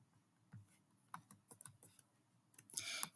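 Keys click on a computer keyboard as a formula is entered in an Access database, in scattered taps that build into a faster run of typing toward the end, close and quiet with no speech.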